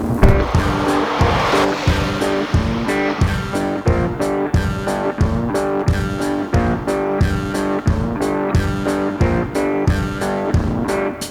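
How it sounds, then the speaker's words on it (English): A 2022 Ford Maverick Hybrid XLT with front-wheel drive accelerates hard without launch control, producing a loud, close, sustained engine and road roar with a steady pulsing rhythm from start to finish. "'22 Ford Maverick XLT without launch control. front wheel drive."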